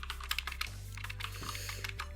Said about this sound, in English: So if I start typing, it shows up.